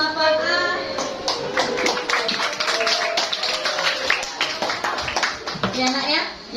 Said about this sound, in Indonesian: Kita beri aplaus untuk kelas 8A.